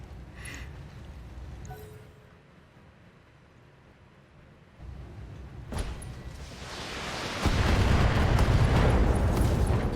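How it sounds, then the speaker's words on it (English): An ammunition explosion in the BattleTech mech game starts as muffled rumbling booms and swells into a loud, sustained roaring blast near the end. "Ammo explosion."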